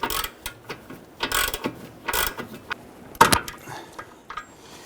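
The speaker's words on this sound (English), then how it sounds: "Let's go ahead and snug that down. We're using a 15/16 socket." A ratchet with a 15/16 socket snugs a nut on a 1999-2004 Jeep Grand Cherokee rear upper control arm, giving several short bursts of close, sharp clicking with brief pauses between them.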